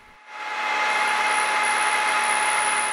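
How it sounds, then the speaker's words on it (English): A small round hobby file working a knife blade, a sustained bright rasping scrape that swells in after a quiet start and stays loud and even to the end, with no voices. "I'm using a little round hobby file, but a quarter inch chainsaw file would actually be even better."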